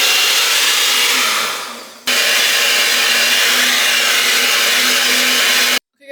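An electric mixer whips butter at medium-high speed, a loud, steady whirring hum that dips briefly, resumes at full strength, then cuts off near the end.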